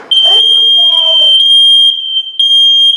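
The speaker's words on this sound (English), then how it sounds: "Silence the alarm." A First Alert smart smoke alarm sounds a loud, steady high-pitched tone, broken by a short gap, while a synthetic voice announces a warning over the first second.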